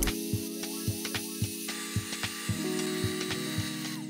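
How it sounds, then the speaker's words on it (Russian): An electric mixer beats three eggs with 100 grams of sugar into a thick, fluffy sponge-cake batter, giving a steady motor whine with regular tapping of the beaters against the bowl, close and alone. "Постепенно добавляю 100 грамм сахара, взбиваю в густую пышную массу."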